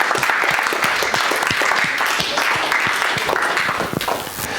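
A church congregation bursts into loud, sustained applause, dense hand claps with a few sharper cheers and voices mixed in, holding steady throughout before easing slightly at the end.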